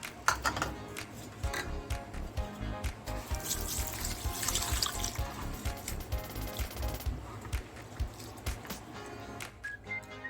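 Water sloshes and trickles as rice grains are swished and rinsed by hand, with rapid splashy squishes and a steady running-water undertone.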